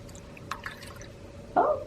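Water is poured into a bath bomb toy's magnification chamber, with a few soft drips followed by a brief, louder splash of pouring near the end.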